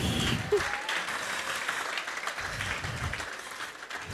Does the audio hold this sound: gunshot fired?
no